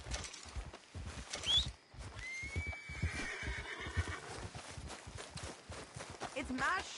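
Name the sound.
horse neighing in a video game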